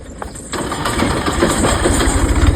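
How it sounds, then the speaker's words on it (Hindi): A tractor engine cranks and catches after a brief quiet moment, then settles into a loud, close, steady rumbling idle with no voices. "ये ट्रैक्टर अब स्टार्ट हो रहा है"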